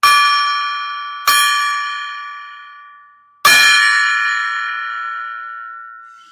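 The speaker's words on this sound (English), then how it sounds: "I'm going to get the gong." A golden gong rings out with three metallic strikes, each blooming into a bright, sustained shimmer that slowly decays; the third hit is the loudest and longest, with no talking over the tones.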